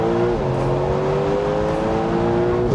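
A Porsche 911 Turbo S sports car engine pulls hard under acceleration, a loud, rising drone sustained through nearly three seconds.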